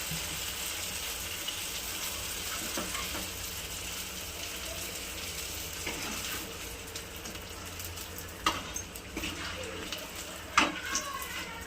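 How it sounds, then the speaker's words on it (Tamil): Suzhiyam balls of rolled sweet filling dipped in maida batter, frying in hot oil, give a steady low bubbling hiss with a few sharper crackles and pops toward the end, fairly faint and with no talk. "உருட்டி வச்ச அந்த பூரணத்தை பார்த்திங்கன்னா மைதா மாவில் டிப் பண்ணி ஆயில் ஃப்ரை பண்ணிக்கிட்டு இருக்கான்"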